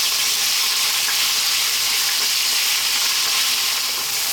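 Beef strips for Ethiopian tibs fry in hot oil in a pan, a loud, close, steady sizzle and crackle running unbroken throughout, with no voices.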